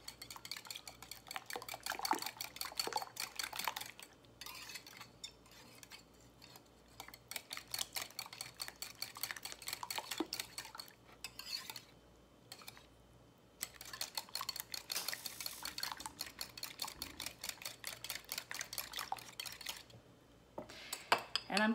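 Frittata ingredients are whisked in a bowl, a utensil clicking and scraping rapidly against the sides in quick, continuous strokes with a few short pauses, close to the listener and without speech.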